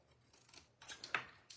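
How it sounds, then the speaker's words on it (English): Paper snips cut along a score line in folded paper card for a pop-up vase card, a few short crisp snipping bursts close by with no voices. "I'm going to cut up on the score line up to the intersecting line"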